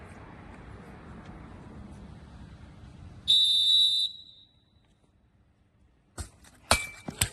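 A referee's whistle sounds one sharp, piercing blast of just under a second before a penalty kick in a women's blind football match, heard over quiet surroundings and followed by a few clinks.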